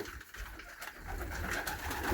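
Pigeons cooing in a loft among sick young birds, soft low coos close by within a faint, busy background.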